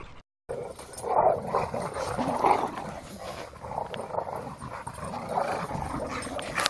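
Several dogs playing off-leash during a training session: steady close growls, panting and rough play noises, loud and continuous throughout.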